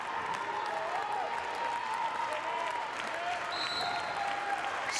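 A large crowd claps and cheers steadily in an arena during the 2011 Class C2 state volleyball championship, a dense, even wash of applause with a voice talking over it.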